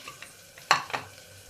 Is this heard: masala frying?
yes